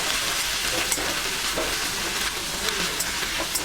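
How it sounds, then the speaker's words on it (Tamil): Green chillies, mint and coriander sauté in a pan, a dense continuous sizzle with faint stirring clicks, close and fairly loud, no voices. "பச்சை மிளகாய், புதினா, கொத்தமல்லி எடுத்துக்கிட்டு நல்லா வதக்கிட்டு அரைச்சி எடுத்துக்கோங்க"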